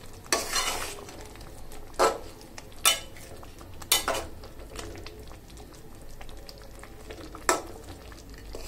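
Chicken pieces stirred and fried in a spice paste in a pan for a cauliflower and radish curry, with repeated scraping clatters of a spoon against the pot over a steady low sizzle, close and without talk.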